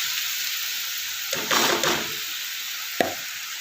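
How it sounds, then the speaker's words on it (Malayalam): Beef liver hits hot oil with a brief burst of sizzling and a scrape of stirring, then settles to a quiet steady hiss, ending with a single sharp clink. "അപ്പോൾ അത് ഇട്ട് കൊടുത്ത് നമുക്കൊന്ന് ഇളക്കി നല്ലോണം വഴറ്റിയെടുക്കാം"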